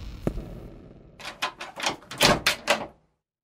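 A door opening: a sharp click or latch sound, then a run of rhythmic wooden thumps and creaks in quick succession, fairly close and clear with no voices, ending abruptly.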